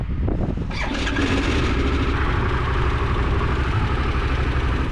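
A Harley-Davidson Pan America adventure motorcycle engine cranks and fires up, then settles into a steady, loud, close idle rumble with no talk.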